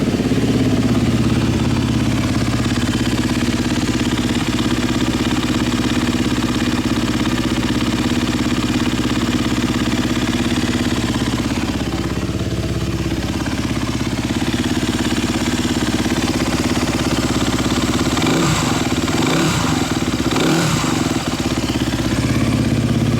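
A vehicle engine idling steadily just after start-up, with coolant being topped up following an oil filter fitted backwards; a loud, even mechanical drone with a light ticking clatter that wavers near the end.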